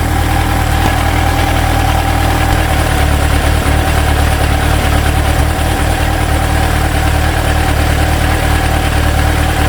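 An engine fitted with four Mikuni BDST 38 carburetors idles steadily while the carbs are adjusted, producing a constant close mechanical drone and vibration with no talking.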